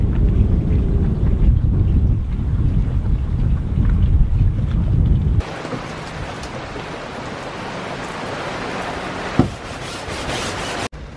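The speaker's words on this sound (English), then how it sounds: "within a few minutes it's absolutely bucketing down" Heavy tropical rain pours down in the Caribbean, a loud, unbroken hiss of water striking surfaces. The texture shifts partway through, and a single sharp knock rises briefly above the downpour.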